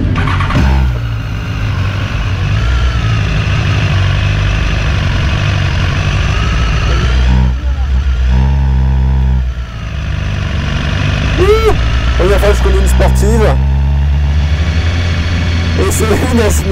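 A BMW S1000RR sport motorcycle fires up and settles into a steady, loud idle, its rumble running under the whole stretch while someone talks over it now and then.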